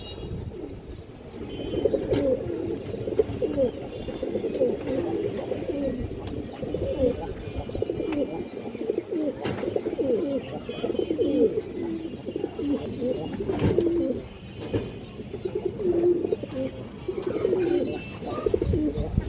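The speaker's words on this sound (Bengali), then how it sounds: "এই দেখেন খুব সুন্দর একটা মাদি কবুতর, পুরান কবুতর" Pigeons cooing steadily in a loft of fancy breeds, low rolling coos repeating throughout at close range with a few sharp knocks and clicks, and no talk.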